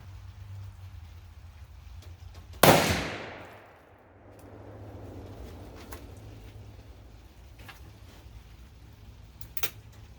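A BFR .45-70 revolver firing Hornady 325gr FTX loads outdoors lets off a single loud, close shot with a long rolling echo, then quiet with a faint click near the end.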